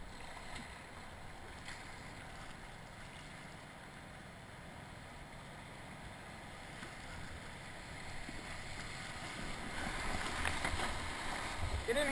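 A kayak runs whitewater rapids on the Tuckaseegee River, with a steady broadband roar of rushing water that grows louder toward the end and faint paddle splashes; no clear talking.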